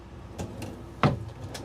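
Kitchen cabinets and drawers in a gooseneck horse trailer with living quarters being opened, a few short knocks and one sharper clack, close and fairly quiet with no talk.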